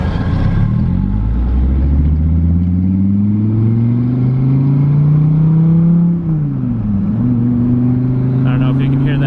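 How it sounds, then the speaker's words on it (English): A powerful, mostly car-bodied car with a likely non-stock loud exhaust accelerates hard, its engine note climbing steadily in pitch, dipping briefly at a gear change, then rising again, loud and close. "I don't know if you can hear that exhaust, but it sounds pretty good."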